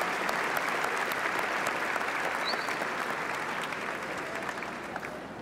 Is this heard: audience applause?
yes